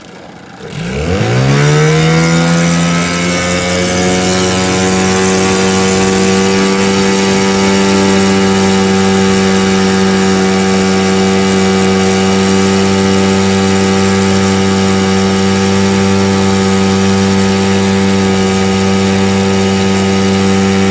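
An Evinrude 9.9 hp outboard motor on a boat starts up and settles into a steady, loud, droning run with a constant pitch, no voices over it.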